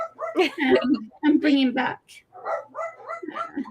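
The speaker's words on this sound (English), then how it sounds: "Sorry if you can hear all the dogs barking." Several dogs bark and yip in sharp bursts with a whimpering edge, close and loud, while a person talks over them in between.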